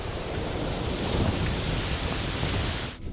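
Water of the Congo River rushes through a narrow gorge, a dense, steady roar of broadband turbulence like surf, loud and unbroken until it cuts off sharply at the very end.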